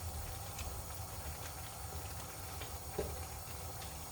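Spinach cooking down in Filipino mung bean soup on the stove, a faint steady steam hiss and low simmer with a few tiny bubbling pops, quiet and continuous without talking.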